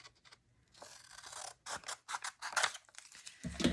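Scissors cut through paper in several short, crisp snips close to the mic, starting after a quiet pause and ending in a louder handling thump.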